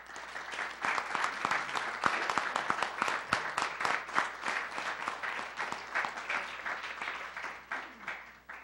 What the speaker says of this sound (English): please stand and get a round of applause